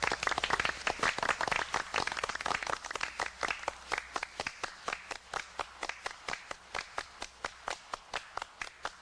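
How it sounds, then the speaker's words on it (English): Hand clapping in a 1988 sound collage, offered as applause for percussionists: a run of sharp, evenly spaced claps that keep a steady beat, starting dense and thinning into distinct, regular strokes. "Give a round of applause for the percussionists, everyone."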